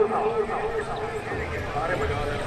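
Horse galloping at a tent pegging (neza bazi) event, rapid hoofbeats heard under a loud announcer's voice calling over a public address system with crowd ambience.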